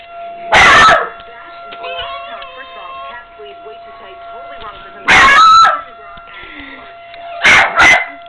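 A dog howls along with a tornado siren: loud drawn-out howls and yips in bursts near the start, middle and end over the faint steady siren tone, and a person speaks softly in between.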